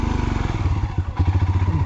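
Motorcycle ridden downhill on a mountain road toward Dhankar Monastery in Spiti Valley, with a steady low engine chug and some clatter and thumps from rough ground, close and continuous.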